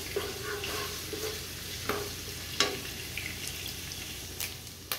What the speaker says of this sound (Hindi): इसको हम हल्का सा फ्राई करेंगे